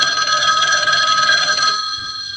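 An incoming phone call rings with a steady electronic telephone ring, loud and close, alone without any talking, then cuts off sharply near the end, leaving a faint hum.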